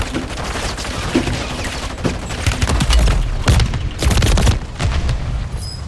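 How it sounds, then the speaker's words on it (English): Video-game battle gunfire, with dense overlapping shots and booms cracking irregularly throughout, some sharp and close, over a constant rumbling din. "I'm getting sniped, bro."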